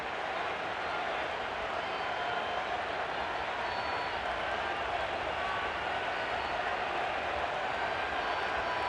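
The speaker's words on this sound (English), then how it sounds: "This crowd bringing the energy and noise early." Steady, dense roar of a stadium crowd at a college football game, loud and continuous throughout with no distinct voices standing out.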